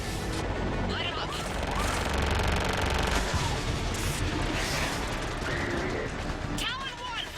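Aircraft weapons firing on ground targets in the video game Mass Effect 3: dense, continuous rattling bursts and explosions under radio chatter, with voices talking over the din.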